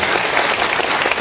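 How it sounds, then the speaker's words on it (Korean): Students at a university lecture clap together in a steady, even round of applause, close and continuous, with no voices over it. "추운데 박수라도 좀 치시죠"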